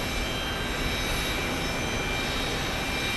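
An airliner arriving at Phoenix Sky Harbor airport gives a steady, broadband jet roar, continuous and fairly loud throughout without any voices.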